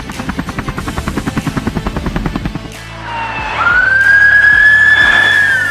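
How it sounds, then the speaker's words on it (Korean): A police helicopter's rotor thumps in steady rapid pulses, loud and close, before giving way to a swelling engine roar with a rising whine, heard alone. "즉시 헬기를 출동시켜 신호를 추적합니다"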